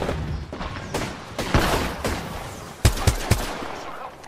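Gunfire in the video game Apex Legends: a string of sharp, punchy shots, scattered at first, then three loud, closely spaced cracks near the end.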